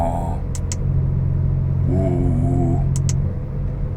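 Porsche 911 Turbo S Cabriolet 992 with its sport exhaust switched off, giving a steady, muffled low rumble throughout while a voice briefly speaks over it.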